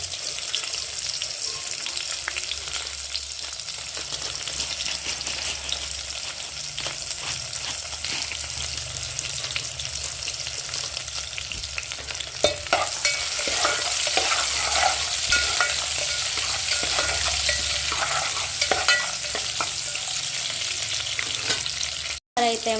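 Continuous loud frying sizzle of tempering seeds and onions, with regular spoon stirring and scraping against the pan, briefly intensifying midway, alone without talk.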